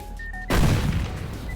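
C4 and grenades exploding in the Roblox game Operation One, a single sudden loud boom that breaks from quiet game ambience and trails off in a rumbling tail.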